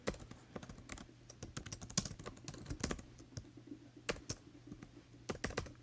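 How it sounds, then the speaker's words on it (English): Rapid, uneven keystrokes on a computer keyboard as a command is typed into a game chat box, close and clear with no talking, bursts of clicks separated by short pauses. "if I open chat, I'm going to want to type this command right here"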